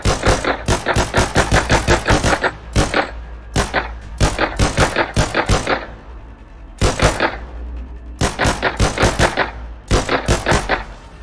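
Rapid automatic gunfire from a shooter game still in development, loud bursts of fast repeated shots separated by short pauses, no talking.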